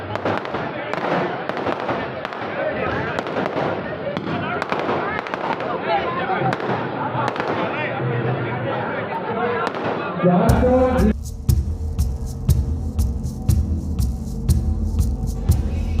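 Firecrackers set off to welcome a road show in Khambhalia, a dense run of sharp pops under continuous talk, then a sudden shift to louder crackling bangs with a low rumble near the end.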